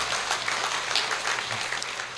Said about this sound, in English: a big round of applause to the Rotary